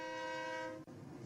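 A steady, sustained train whistle blows loudly with rich layered tones, briefly breaking off near the end before resuming.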